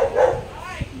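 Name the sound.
husky dog barking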